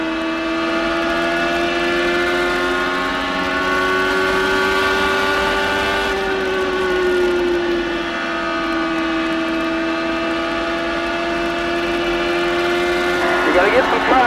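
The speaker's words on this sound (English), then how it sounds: "let's crank it up and listen to full throttle champ car action" Champ Car race cars at full throttle on the Milwaukee Mile oval give a sustained, loud, high-pitched engine whine with a slowly shifting pitch, steady throughout and unbroken by talk.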